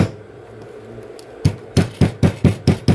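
A rubber mallet pounds a thick seam of old denim jeans before sewing, about seven dull, firm thuds in a steady rhythm after a brief quiet start.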